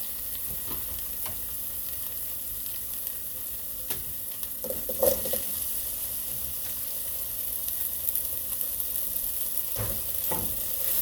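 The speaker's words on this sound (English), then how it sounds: "I'm also going to add in my potatoes now." Potatoes sizzle in a pot of sofrito for a Spanish-style soup, a steady frying crackle close by, punctuated by scraping stirs and occasional clinks of the spoon against the pot.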